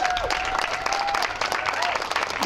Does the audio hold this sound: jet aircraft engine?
no